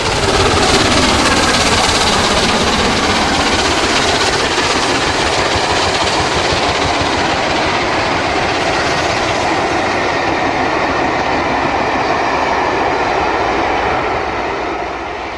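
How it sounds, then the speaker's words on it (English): The A2 steam locomotive Tornado races along the main line near Winchfield, a loud, close, continuous roar of rushing train and rolling wagons with rapid rail clatter, slowly easing away toward the end. "The A2 races along the proper main line near Winchfield."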